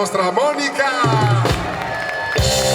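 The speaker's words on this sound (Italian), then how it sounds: "E l'applauso più forte ci va a lei" An outdoor concert crowd in a town square in Jesolo claps and cheers loudly for a band member, with a voice calling out over the rising applause.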